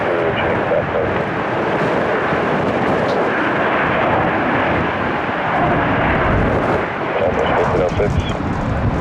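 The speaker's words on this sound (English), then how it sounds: "It was a KC-135 that took off from McDill." A Boeing KC-135 takes off from MacDill near Tampa, its jet engines making a loud, continuous, broadband roar that holds steady throughout.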